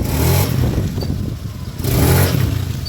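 A Honda Beat scooter engine, repaired after a rough, gurgling fault, revs up twice in short bursts with a dip between, loud and close with no talking.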